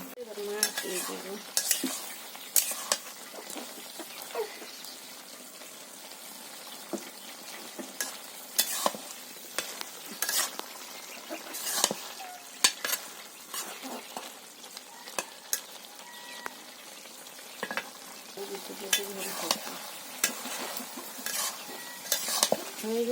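Tilapia fries in a pan in a village kitchen, a soft continuous sizzle broken by repeated scraping stirs and light clinks of a utensil against the pan, with no talking.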